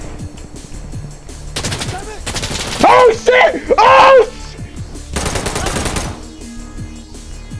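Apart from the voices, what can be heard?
gunfire in a video game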